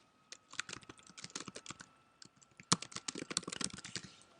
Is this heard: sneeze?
no